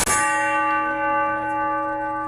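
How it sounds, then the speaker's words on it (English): A gong aboard a museum showboat barge rings out from one sharp strike, its steady metallic tones holding loud and sustained, then slowly decaying over a couple of seconds with nothing else heard. "This was a gong."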